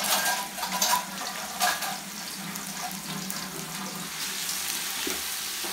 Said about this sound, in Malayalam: നല്ലപോലെ ഒക്കെ ഒന്ന് ഇളക്കിയെടുക്കുക.